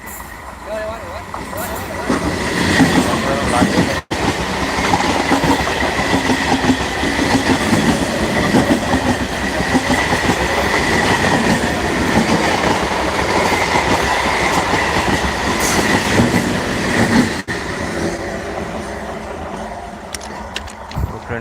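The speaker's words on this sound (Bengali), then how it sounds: "দেখতে পাচ্ছ ট্রেনটা আসছে ভাই" A train rolls past close by on the railway tracks, a loud continuous rumble with clattering wheels and squeals lasting the whole stretch, with a person talking over it.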